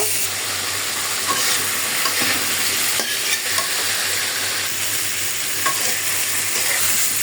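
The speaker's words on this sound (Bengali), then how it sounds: "মাছ ভাজা কমপ্লিট হয়ে গেছে, এখন আমি সবজিটা একটু ভেজে নেব।" Vegetables frying and being stirred in a pan after fish has been fried, a steady dense sizzle with scattered scraping and clinking stir strokes, close and constant with no voice.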